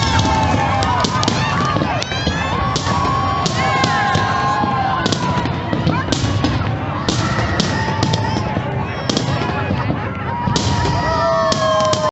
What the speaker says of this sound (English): as the fireworks began to start